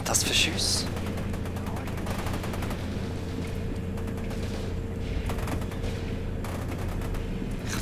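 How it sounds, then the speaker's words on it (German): Rapid bursts of gunfire in the shooter game F.E.A.R. 2 rattle on continuously, layered with clatters and mechanical game noise, while people speak over the action. "Was sind das für Schüsse?"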